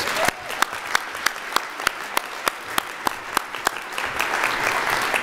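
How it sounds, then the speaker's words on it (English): A room full of dinner guests applauds themselves at an awards banquet, a thick continuous wash of clapping with a few sharp, close claps standing out, steady and loud for about five seconds. "Now please, give yourselves one more big round of applause."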